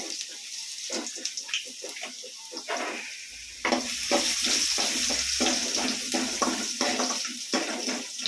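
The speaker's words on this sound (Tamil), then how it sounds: "எண்ணெய் கடுகு பூண்டு போடுறத பார்த்துக்கிட்டோம்" Mustard seeds and crushed garlic fry in oil, a continuous close sizzle with crackling pops and stirring scrapes that grows denser and louder partway through.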